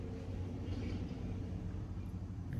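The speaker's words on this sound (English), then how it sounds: "I apologize if you hear some vehicles going by. I got the windows open." Low, steady traffic rumble from cars passing on the street, heard through open windows, a continuous muffled drone with no talking.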